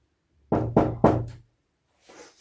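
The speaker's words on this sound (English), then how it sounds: "One day there was a knock at Joseph's door." Three firm knocks on a wooden door, close and loud in quick succession, followed after a pause by a faint rustle.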